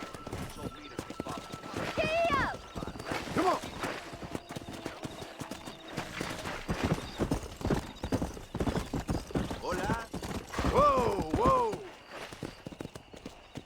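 Horse hooves clip-clop at a steady gallop in the Red Dead Redemption game, loud and continuous, with occasional whinnies and neighs over the rhythmic footfalls and some voices mixed in.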